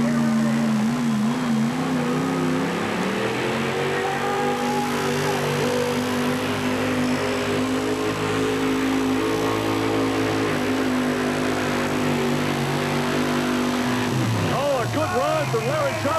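A 1972 four-wheel-drive pulling truck revs hard at a truck pull event, its loud engine holding a sustained roar that shifts pitch near the end, with an announcer talking over it.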